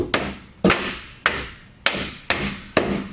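A hammer taps down the flanges of metal studs while a commercial door opening is framed: six sharp, close, evenly spaced metallic strikes, each with a short ringing decay, heard alone.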